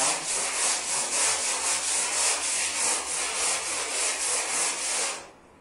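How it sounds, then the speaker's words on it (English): Steady, rhythmic 80-grit sanding strokes rasp back and forth across a 1959 Chevy pickup truck hood, close and continuous, then stop at the end. "I'll use 80 grit to do my sanding with"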